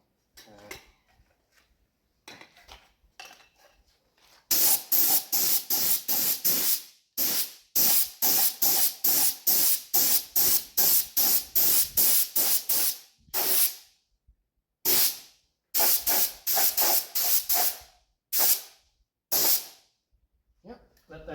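A spray can lays a light coat of paint on parts of a 1971 Honda CD175 under restoration. It gives short, loud, close hissing bursts in quick rhythmic succession, with a few longer sprays and brief gaps between them.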